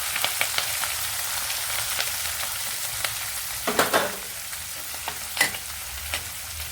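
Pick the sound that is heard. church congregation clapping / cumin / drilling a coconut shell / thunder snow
cumin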